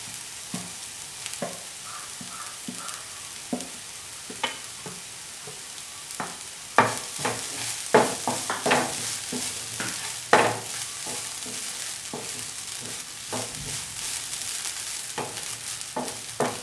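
Green chili, onion and coconut being stir-fried with salt for pineapple thoran, a close sizzle broken by repeated sharp scrapes and taps of a spoon against the pan.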